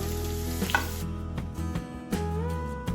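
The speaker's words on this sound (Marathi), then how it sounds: "कांदा थोडा लालसर असा भाजून घ्यायचा आहे" Chopped onion and green chili sizzle steadily in a hot pan for a soybean and chana dal dish, with a few light clinks and stirring scrapes over the constant close frying.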